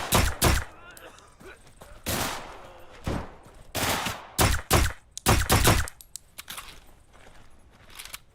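Bursts of gunfire in the video game Deadside ring out in several sharp volleys, some rapid and clustered, others single, loud and close, with quieter gaps between them.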